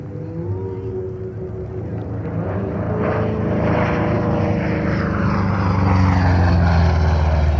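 A P-47 Thunderbolt's propeller-driven piston engine at the 2024 Bremerton air show gives a loud, continuous rumbling drone that swells slightly as the aircraft nears, with no talk over it.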